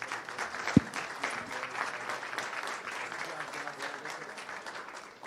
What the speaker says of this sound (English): just give these guys one more round of applause